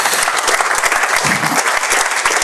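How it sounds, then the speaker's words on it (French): Loud, close crowd applause for the Generali sailing crew, dense and steady clapping throughout with no pause. "soyez gentils de les applaudir encore une fois bien fort"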